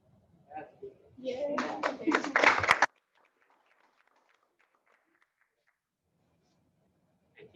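A small group at a Rotary meeting claps for a new Paul Harris Fellow recipient, a burst of close hand-clapping lasting under two seconds that stops abruptly into silence, preceded briefly by a voice.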